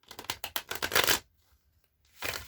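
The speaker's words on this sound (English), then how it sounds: "I'm feeling to shuffle it like that." Tarot cards riffle and flutter in a quick burst of papery snaps, followed by a short pause and another brief shuffle starting up.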